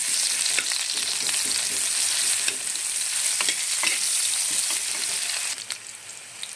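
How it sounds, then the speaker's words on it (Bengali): Onion fries lightly in hot oil in a kitchen pan, a constant close sizzle with scattered sharp crackles and spatters, easing slightly toward the end. "এবারে তেলের মধ্যে আমি পেঁয়াজটা দিয়ে দেবো এটাকে হালকা করে ভেজে নেব"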